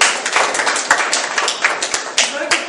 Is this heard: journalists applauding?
yes